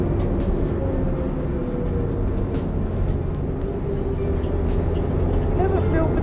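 Inside a Ford Focus Cup race car, a 1,300 kilo saloon on a track, the engine drones steadily and drivetrain noise hums underneath while someone talks over it.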